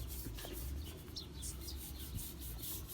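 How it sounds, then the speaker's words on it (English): Rust is scrubbed off a boat in a boatyard with short, repeated, rhythmic rubbing strokes close by at moderate loudness. Faint bird calls sound in the background, and there is no talking. "just need to scrub this bit of rust off here"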